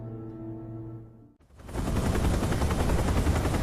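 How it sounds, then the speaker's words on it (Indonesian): A helicopter bringing VIP guests in a Korean drama scene: a steady, loud rotor roar swells in and fills the remainder after a short tonal passage cuts out. "Para VIP tiba menggunakan helikopter."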